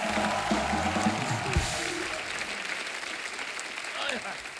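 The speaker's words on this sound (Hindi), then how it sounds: "जोरदार तालियां हो जाए हमारे मेहमानों के लिए" A studio audience at The Kapil Sharma Show claps loudly and steadily for arriving guests, the applause fading slightly and then swelling again toward the end.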